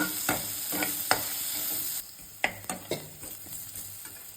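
Onions or other ingredients slow-frying in a pan until brown for ema datshi, a soft background sizzle broken by a handful of sharp stirring scrapes and taps, quiet and close with no speech.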